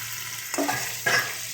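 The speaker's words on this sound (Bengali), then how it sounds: "নুন হলুদ দিয়ে হালকাভাবে এটাকে আমরা ভেজে নিয়ে নিচ্ছি" Shrimp frying in oil with turmeric and salt, a soft close sizzle broken by two brief bursts of stirring or turning in the pan.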